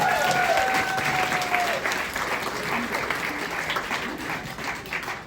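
An audience applauds at a curvy model search reveal event, sustained loud clapping from a crowd filling the whole stretch, with some voices and a brief whistle-like tone near the start.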